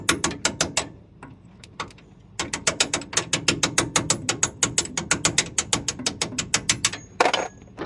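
A ratchet and socket wrench clicks in fast, steady bursts of loud, close pawl ratcheting on a ball joint bolt of a Ford F350 truck, with a brief pause and a final heavier metallic clunk.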